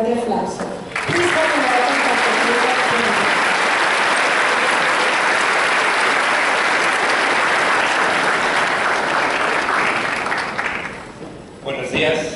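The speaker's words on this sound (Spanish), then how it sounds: "Ayúdenme a recibir al doctor Diego Bonilla con un fuerte aplauso" Loud, sustained applause fills a ceremony hall as an audience welcomes a doctor to the podium, rising quickly, holding for about ten seconds and then fading.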